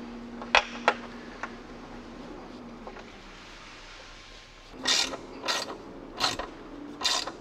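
A socket wrench ratcheting on a nut while assembling a MOTOMULE tray mount, with a few sharp clicks early and then bursts of quick ratcheting strokes in a steady rhythm, close up.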